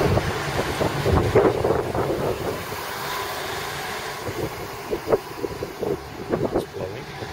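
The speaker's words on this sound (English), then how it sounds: "The wind's still blowing." Wind buffets the microphone in rumbling gusts outdoors at a train station, with faint intermittent knocks and movement noises throughout.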